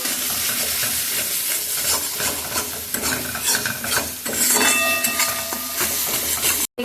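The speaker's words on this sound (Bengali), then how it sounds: "তো মশলাটা কষিয়ে নিচ্ছি" Spice paste sautéing in a pan while fish fries nearby in a home kitchen, a steady close sizzle with the clatter of stirring running throughout.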